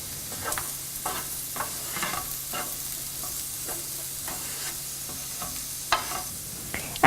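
Sweet potatoes sizzle steadily in a skillet, with scattered scraping clicks from a utensil stirring them at irregular moments over a constant low frying hiss.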